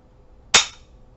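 A single sharp report from an Arisaka training rifle firing, likely a blank, with a loud abrupt crack and a short decaying tail against a quiet background.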